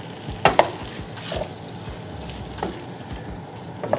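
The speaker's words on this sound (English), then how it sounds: "So what I'm going to do is I'm going to add onions." Onions tossed into a pan of cooking meat hiss and sizzle as they're stirred, with a few sharp utensil scrapes and clinks against the pan over a steady frying crackle, close by and without talking.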